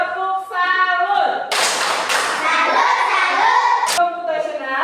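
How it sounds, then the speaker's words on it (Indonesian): A classroom group of children claps together in a short burst of rhythmic salute clapping, loud and close. Voices chant around the claps before and after. "Oke, kita tepuk salut untuk Jersi dulu."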